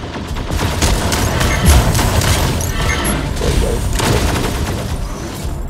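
Rapid bursts of Mech Arena gunfire crackle continuously, with sharp repeated shots and a few heavier booms layered over a busy background.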